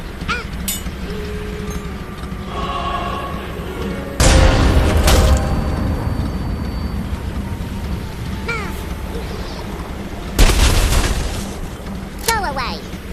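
Grenades explode in the Worms WMD video game, giving two loud, booming blasts with debris rattling after them over game effects and background clicks.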